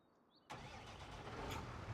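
A JCB 4000 series tractor engine in Farming Simulator 25 fires up after a brief quiet moment, then settles into a steady, close rumble that grows a little fuller.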